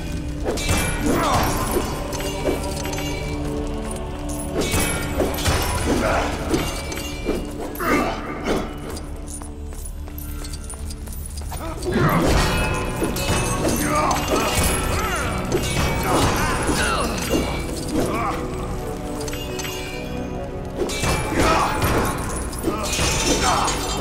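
Objects are smashed in the Lego The Hobbit game: repeated crashes, shattering and thuds of breaking bricks, loud and continuous over about twenty seconds with game music and effects and a voice talking throughout.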